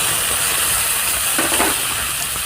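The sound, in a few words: frying ground coriander and cumin paste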